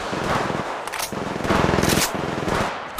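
Rapid automatic gunfire from a weapon in Apex Legends Mobile rattles out in several loud bursts separated by short pauses, close and dominant.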